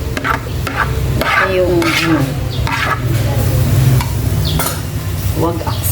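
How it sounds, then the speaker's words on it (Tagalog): Vegetables frying in a pan, close and loud, with a steady sizzle and repeated scraping stirs of a utensil, while a person talks over the cooking. "Ayan natin haluin pag mag-down na yung gulay"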